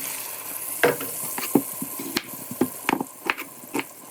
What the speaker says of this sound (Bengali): পেঁয়াজ দিয়ে দিলাম কেটে